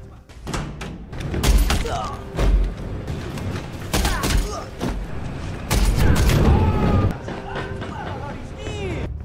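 An action film shootout with a nuclear bomb threat: booming gunfire bursts and explosions hit in repeated loud clusters, with shouting and talk throughout.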